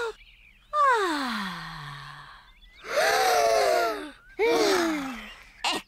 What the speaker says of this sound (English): Breathe in the wonderful fresh air